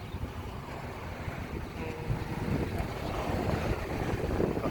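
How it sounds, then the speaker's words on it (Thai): Strong wind roars steadily across an outdoor fish market in Thailand, a constant broadband rush that swells slightly louder toward the end, with no voices. "ลมแรงนะครับวันนี้อากาศดี"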